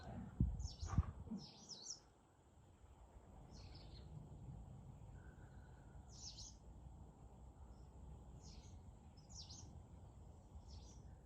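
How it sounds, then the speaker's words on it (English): Faint bird chirps sound at intervals over a quiet, steady outdoor hum, after a brief thump of handling noise at the start. "Can you hear the bird song?"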